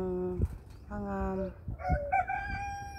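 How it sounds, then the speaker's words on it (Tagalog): Chickens in a backyard coop, with a rooster crowing in long tonal calls close by and hens clucking and squawking between them, loud and near. "Diyan sa loob yung manukan namin."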